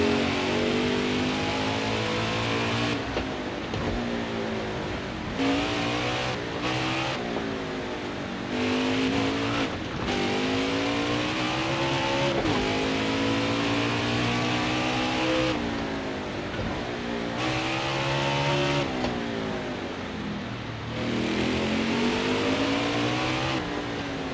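Simulated NASCAR stock car engine from NASCAR Heat 5 at the Charlotte Roval, revving hard with repeated downshifts and rising upshift sweeps through the front stretch chicane, loud and continuous with no talk.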